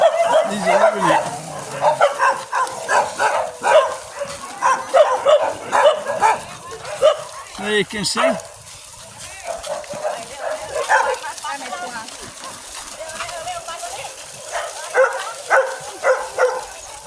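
A pack of dogs at a sanctuary in Chonburi, Thailand barks in rapid repeated bursts, loud and clustered, easing off midway before picking up again, with people talking over it.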